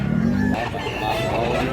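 Chickens and roosters at a poultry market in Mantalungon, Cebu: a loud rooster crow rings out up close, then gives way to a dense crowd of clucking birds and a busy market hum.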